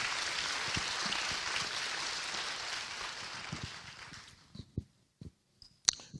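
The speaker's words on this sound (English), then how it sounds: "Give the Lord another hand clap of praise." A church congregation claps in praise during a sermon, a dense wash of hand claps that fades out after about four seconds, leaving a few scattered isolated claps.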